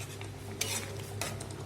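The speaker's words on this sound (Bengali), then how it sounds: "চিংড়িগুলো অ্যাড করে নেওয়ার পর ওটাকে আমরা ঠিকভাবে দুটোকে নাড়তে থাকবো, মিক্স করে দেবো" A spoon stirs prawns through hot, spicy Bengali-style curry gravy in a pan, giving a couple of sharp scraping clinks over a steady low cooking hum, with no one talking.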